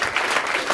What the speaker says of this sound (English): this morning, I think our applause was louder